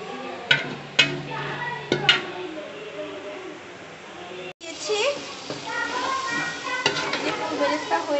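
Onions sizzle on high heat for beresta, crisp fried onion for a beef biryani cooked in mustard oil, with scraping stirs and clacks from a spoon in the pan and voices talking over the frying.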